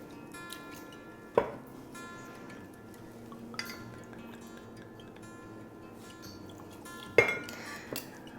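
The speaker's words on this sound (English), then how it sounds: "In a cocktail shaker, we're going to just add all of our ingredients." Ingredients going into a metal cocktail shaker for a bourbon cobbler cocktail, a few isolated clinks and knocks spaced apart against a quiet background, with one soft tap in between.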